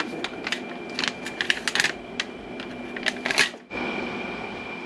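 A Silhouette Cameo 4 cutting machine cutting a design, heard up close as a steady motor whine under quick bursts of clicking and tapping from the moving carriage, settling into an even hum near the end, with no talking.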